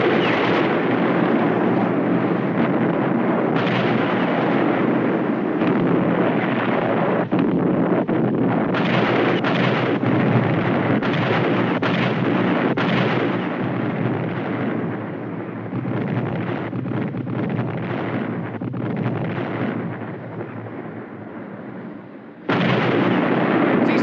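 Naval guns firing in a 1953 war film make a dense, continuous roaring barrage that stays loud throughout, easing briefly before a final surge, with no voices over it.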